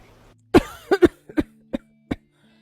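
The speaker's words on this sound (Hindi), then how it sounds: "माँ जी, आप सुबह से खांस रही हैं।" A cartoon elderly woman coughs in a short burst of about seven hacking coughs, loud and close, with uneven spacing and no talking.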